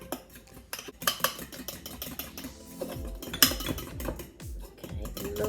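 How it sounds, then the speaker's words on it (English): A spoon stirs mug cake batter made with vegetable or sunflower oil, clinking and scraping against the mug in a busy run of uneven taps and scrapes close by, with no speech over it. "And again, mix that up. Nice, good mix, getting all those lumps out."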